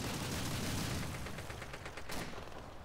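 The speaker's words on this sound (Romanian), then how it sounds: "un glonț fix în cap i-am dat" Gunfire in Call of Duty, heard as a rapid burst of automatic shots over steady loud battle noise, close, with one sharper crack near the end.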